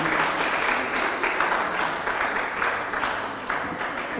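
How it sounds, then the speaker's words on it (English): Steady applause from an audience at a national Bible quiz contest between two senior high schools, a continuous wash of clapping that holds evenly at moderate distance. "give yourself a round of applause"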